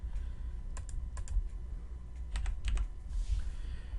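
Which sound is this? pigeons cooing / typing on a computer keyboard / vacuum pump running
typing on a computer keyboard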